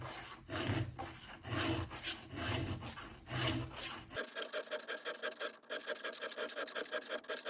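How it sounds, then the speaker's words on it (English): Hand file sharpening the chain of a Husqvarna 55 Rancher chainsaw, rasping only on the push stroke: a close series of gritty strokes, first slower and heavier, then a faster, steady run of bright scrapes. "when I'm filing, you can hear it when I go and you come back, you can hear that."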